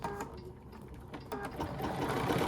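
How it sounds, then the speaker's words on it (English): Embroidery machine stitching the back panel of an in-the-hoop bag with white thread, a steady fast whirring run of needle strokes that grows slightly louder toward the end, with no voices. "Okay, ready to stitch the back down."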